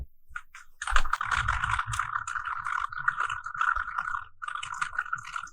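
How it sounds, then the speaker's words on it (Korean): Steady typing on a computer keyboard, a dense run of close, crisp keystrokes for several seconds with a short pause near the end, heard alone without talk. "그 다음에 타이핑을 또 쭉 해주세요."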